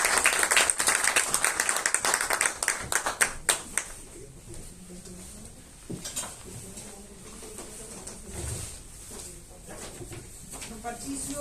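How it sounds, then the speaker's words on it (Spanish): Conference audience applauding to welcome a speaker, a dense burst of clapping for about four seconds that thins into scattered claps, followed by murmuring and talk in the room. "Por lo tanto, démosle un cálido aplauso."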